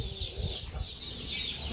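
A baby chicken cheeps in high, steady peeps while set on a tray on a weighing scale, close and fairly loud, with a low rumble of handling noise underneath.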